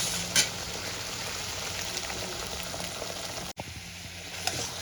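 Spices sauté in a pan for a katla fish and potato curry, a steady soft sizzle and bubbling with an occasional stir or tap, close and even, and no one speaks.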